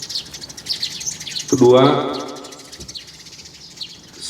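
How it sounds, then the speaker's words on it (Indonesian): Small birds chirp and tweet in a school yard, light high calls scattered through the clip, with a brief louder clatter midway and a person speaking in the background. "Ada suara burung, nah jarang-jarang dengan suara burung."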